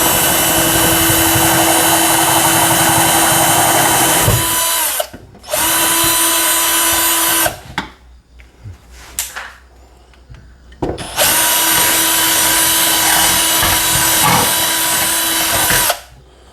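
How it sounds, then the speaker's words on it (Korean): A power drill fitted with a hole cutter whines loudly and steadily while boring a hole sized for a water purifier hose, running in long bursts with short stops and a brief rattling pause in between. "호수 사이즈에 맞게 구멍을 뚫어주겠습니다."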